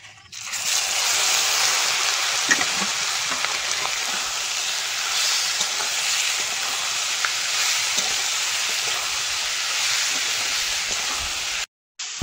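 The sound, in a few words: fish frying in oil with dried chillies and five-spice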